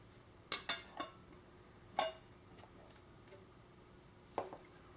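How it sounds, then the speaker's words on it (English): A palette knife scoops printmaking ink and taps it onto a workspace, producing a few sharp metallic clinks and scrapes, quiet and close, with pauses between. "Using your palette knife, scoop and deposit about a tablespoon of ink onto the center of your workspace."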